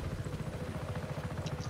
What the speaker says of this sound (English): Choppers are inbound. Repeat, choppers are inbound.